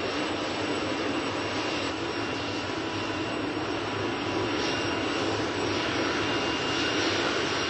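A helicopter's engines and rotors spin up before takeoff, producing a loud, continuous turbine whine and roar that holds steady throughout with no voices.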